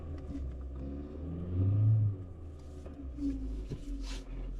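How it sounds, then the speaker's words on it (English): A 2019 Kia Forte's replacement engine idling with a steady low rumble, briefly revving louder around the middle before settling back, close to the microphone. "The engine doesn't sound great."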